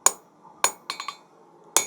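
A hammer rings sharply on hot steel at an anvil while forging a knife point, with isolated close metallic strikes and a quick double tap between them.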